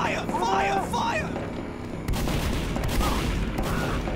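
Gatling gun fire in the video game Team Fortress 2, a sustained rattling barrage growing louder and heavier midway, with booming impacts mixed in and voices shouting over it.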